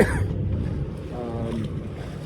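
A sailboat in a light east wind on a bay gives a steady low rush of wind and water, with muffled wind buffeting on the microphone and no voices.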